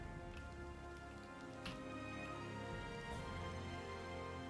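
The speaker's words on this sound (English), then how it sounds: "It's raining." Steady, soft rain patters on surfaces across a battlefield in Total War: Three Kingdoms, a continuous quiet hiss with faint scattered drop taps and no voices.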